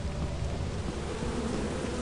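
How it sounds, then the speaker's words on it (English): A dense, steady swarm of wasps buzzes in the video game Lethal Company, a low continuous drone with rumbling undertones and no speech over it. "Watch out for the wasps."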